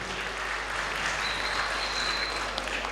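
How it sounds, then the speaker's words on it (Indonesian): Audience applause for a sholawat group at the Festival Sholawat Ramadan 2023 TV competition, a dense, steady clapping from a large crowd that holds at even loudness throughout with no voices on top. "Tepuk tangan semua untuk grup Sholawat yang sudah tampil."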